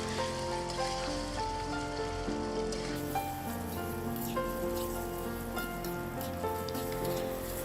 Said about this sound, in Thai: พอใส่หมูลงไปแล้วนะคะ เราก็จะทอดไปเรื่อยๆ จนกว่าหมูของเราจะสุกดีนะคะ